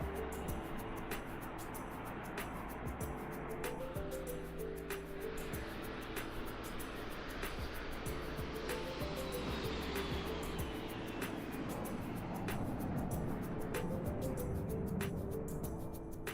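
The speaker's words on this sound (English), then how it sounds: "Got that good airplane sound." Steady broadband jet engine roar of a Fokker F28 airliner in Microsoft Flight Simulator 2020, continuous and fairly loud throughout with a faint rising whine, no talk.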